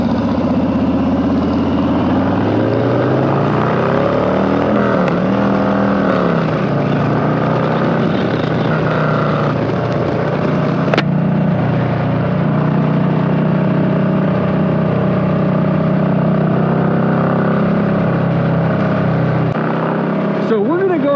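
Harley-Davidson FXLR and FXBB motorcycles riding, their engines droning loud and close with rising and falling revs as they pull away and shift, with speech mixed in over the engine noise.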